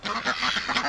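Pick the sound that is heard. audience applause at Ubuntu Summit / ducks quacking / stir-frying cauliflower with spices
ducks quacking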